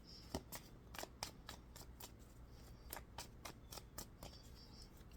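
Tarot cards are handled and shuffled close by, a run of quick crisp riffling snaps and slides in irregular bursts, quiet overall and without talk.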